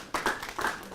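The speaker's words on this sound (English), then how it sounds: "give Wendy a round of applause." A brief patter of hand claps for a participant at a public speaking training session in Melbourne, a few close claps in quick succession.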